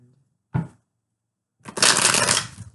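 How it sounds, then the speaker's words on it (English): Tarot cards shuffled close up: a short riffle burst, a pause, then a longer, loud papery flurry of cards alone with no talking. "Okay, almost there. Two more shuffles."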